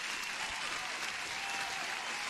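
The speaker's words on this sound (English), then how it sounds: "You guys deserve an applause" A steady wash of applause fills the whole stretch, dense and even from start to end, with no voices over it.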